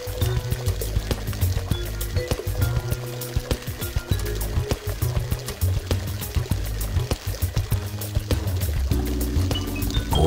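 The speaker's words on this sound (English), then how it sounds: "many highlights that include a relaxing waterfall feature." A relaxing backyard waterfall feature at a Toronto home runs continuously, a steady splashing and pouring of water, though steady background music largely covers it.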